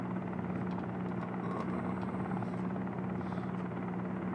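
A low-powered helicopter in a flight simulator game drones with a steady whirring rotor and engine hum, constant and fairly loud throughout, with no speech.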